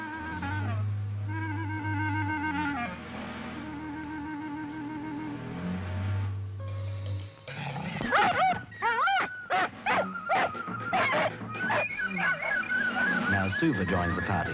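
Dogs attacking a snake bark, yip and whimper in sharp bursts. A sustained harmonic tone plays first, then the excited dog sounds become loud and frequent.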